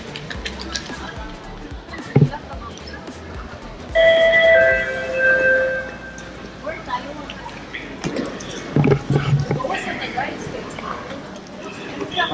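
A train ride in Singapore, with steady carriage rumble, a loud multi-tone chime or announcement signal partway through, and people chatting nearby throughout.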